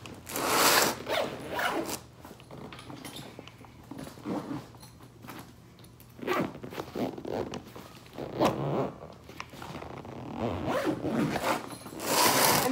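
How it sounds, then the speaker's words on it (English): A baseball gear bag is zipped up in a series of quick, scratchy zipper pulls, some short and some longer, separated by brief pauses and soft handling noises. The sound is close and unaccompanied by talking. "So I'm gonna go zip this stuff up"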